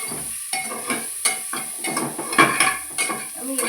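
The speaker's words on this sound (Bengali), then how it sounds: "কুকারের মধ্যেই ভেজে নিই, একবারে বসিয়ে দিই" Chicken with spring onions frying and being stirred in a pressure cooker, giving a close, uneven run of scraping and clattering strokes over a low sizzle, with no voices.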